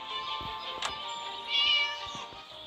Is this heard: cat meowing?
yes